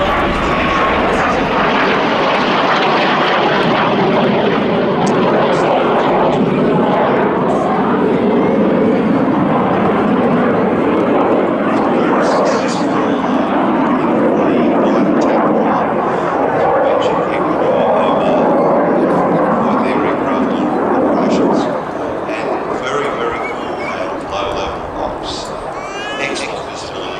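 A BAC Strikemaster jet roars continuously as it flies in a formation air display, loud and sustained throughout, with a commentator talking over it.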